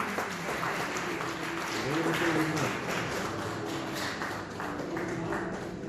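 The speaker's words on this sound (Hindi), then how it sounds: "अंकित के लिए जोरदार तालियां।" Audience applause at the 65th Rail Saptah award ceremony in Bikaner, a steady, moderately loud wash of many hands clapping through the clip, with a faint voice and some tonal sound underneath.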